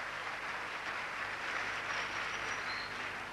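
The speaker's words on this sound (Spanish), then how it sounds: "Aplausos." Faint, steady applause from the audience at Tony Kamo's stage hypnosis show in Paraguay, many hands clapping evenly for a few seconds with a bright whistle-like tone near the end.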